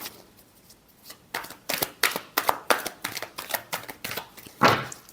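A deck of tarot cards being shuffled, a quick run of crisp riffling bursts in an uneven rhythm ending with a louder final flutter, close and clear with no talking.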